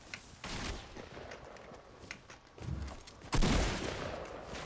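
Video game gunfire comes as a series of distant, muffled shots and bursts scattered over a rumbling background, with a heavier blast near the end.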